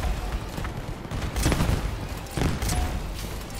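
Assembler guns in the video game Crossout fire in rapid bursts of cracking shots, with a couple of heavier volleys standing out over constant background battle noise.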